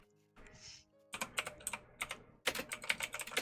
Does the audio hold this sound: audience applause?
no